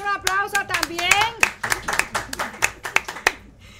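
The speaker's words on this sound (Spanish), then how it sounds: "¡Un aplauso también!" Applause at a Mech-Tech Institute open house: a handful of people clapping in a brisk, uneven patter, with a voice speaking over the start before the claps thin out and stop.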